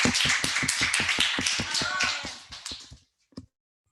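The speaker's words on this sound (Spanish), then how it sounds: "vamos a recibir con un fuerte aplauso a nuestra hermana Delfina" A seminar audience claps to welcome a woman named Delfina, a quick, even run of sharp, close hand claps that thins out and stops, followed by a couple of stray final claps.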